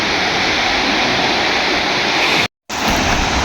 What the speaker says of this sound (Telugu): వాటర్ ఫాల్స్ అయితే ఇక్కడే ఉంది, మనం వచ్చేసాము